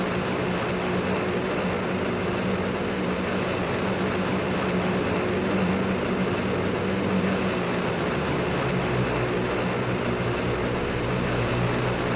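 Airbus A400 turboprop engines droning steadily in a flight simulator game, a dense continuous hum with low rumbling tones that holds evenly throughout.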